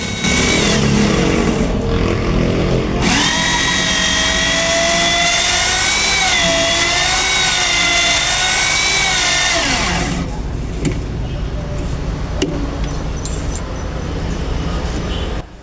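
A rotary polishing tool fitted with 400-grit sandpaper whines and grinds loudly against a surface, its pitch wavering, then winds down and leaves scattered scraping and clicks.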